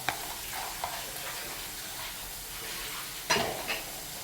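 Pieces of papaya are tossed into a sizzling pickle mixture. A constant frying hiss carries soft stirring scrapes, then a sudden louder sputter and scrape marks the addition before the sizzle continues evenly.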